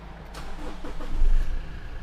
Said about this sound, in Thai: ขออนุญาตสตาร์ทนะครับ ให้คุณผู้ชมได้ชม